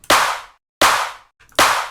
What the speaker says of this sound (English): It's the A snare, and it sounds like this without effects.